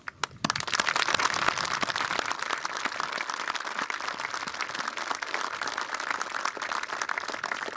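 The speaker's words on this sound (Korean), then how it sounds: "자랑스러운 우리 군 장병들의 노고를 취하며 큰 격려의 박수를 보냅니다." At a Korean Armed Forces Day ceremony, a large audience of soldiers and guests breaks into broad, sustained applause that begins abruptly and continues evenly, with no talking.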